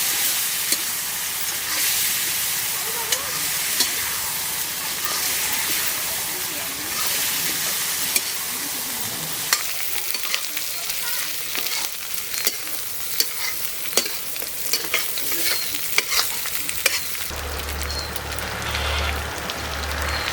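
Mutton (sheep meat) with ground spice paste sizzling and frying on high flame while being stirred, a continuous loud crackle with scraping strokes of the spoon, and a voice talking over it.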